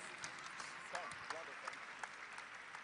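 A church congregation claps its hands, faint and distant, a thin steady patter of many hands with a few sharper claps standing out, low and muffled throughout.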